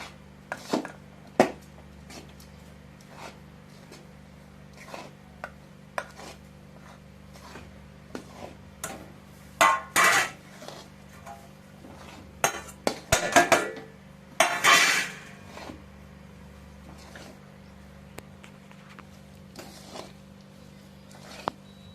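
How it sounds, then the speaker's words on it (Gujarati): Crushed peanuts are mixed into a sweet date mixture for khajur sing pak, heard as intermittent spoon-on-pan scrapes and clinks, sparse at first then busier, close and fairly quiet with no talking. "હવે આપણે માંડવીનો ભૂકો નાખી દઈશું અને સરસ રીતે મિક્સ કરતા જવાનું છે."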